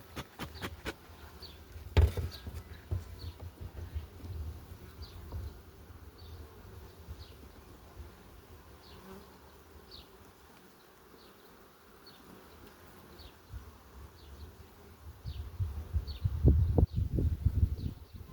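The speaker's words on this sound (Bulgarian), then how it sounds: "Пчелите са много." Honey bees buzz around an open hive during a May inspection of Dadant-Blatt and Farrar hives. The dense, steady swarm hum runs throughout and grows louder and closer near the end.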